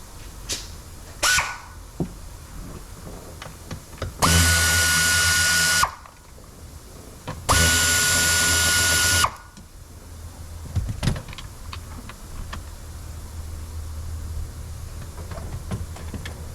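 Power tool removing two 7mm screws from the rear AC unit of a 2018 Ford Expedition: two loud, steady whirring bursts of a couple of seconds each, separated by a short pause, with quieter clicks and handling noises around them.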